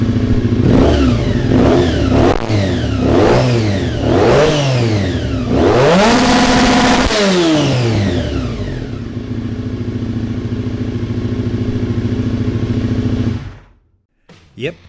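A 1987 Honda NSR500 two-stroke Grand Prix racing motorcycle revs hard, blipping up and down several times before screaming up to the red line and holding there, loud and close, then cutting off abruptly.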